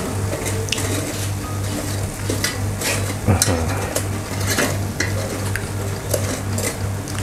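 CP chicken ribs sizzle and crackle in an air fryer basket as it is pulled out partway through cooking, a continuous close frying hiss with scattered clicks and scrapes over a steady low hum, with no talking.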